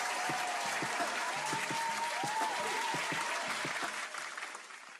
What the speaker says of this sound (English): Round of applause for everyone involved